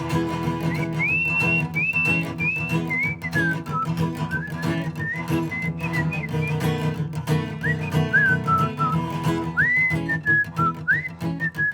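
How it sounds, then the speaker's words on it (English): A person whistles a wavering, sliding melody in several phrases over a steady musical background, clear and fairly close. "Kind of early for whistling."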